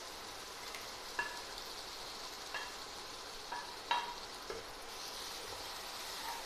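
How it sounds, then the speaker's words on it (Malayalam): Chopped tomatoes sauté with green chillies for chicken biryani. A constant soft sizzle hisses beneath occasional light clicks of stirring. "തക്കാളിയും ചേർത്ത് നന്നായിട്ട് വഴറ്റിയെടുക്കാം."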